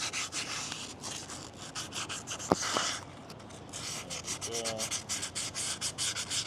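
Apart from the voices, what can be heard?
sandpaper sanding rust off a car part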